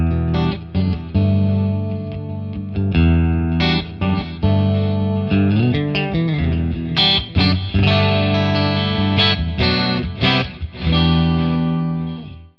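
Electric guitar plays chords and single-note runs drenched in chorus, with reverb and echoing delay trailing each phrase, loud and alone.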